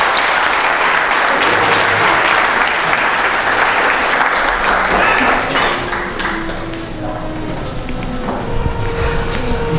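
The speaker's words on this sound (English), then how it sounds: "So let's all give him a welcoming hand." An audience claps loudly and steadily in welcome at an astronomy talk on Planet 9, the applause fading gradually as a voice begins speaking.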